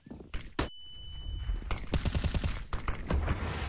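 Dual pistols fire rapidly in a CS:GO pro match, a burst of sharp, fast repeated shots following a few earlier isolated bangs and mechanical clicks, loud and close under faint commentary.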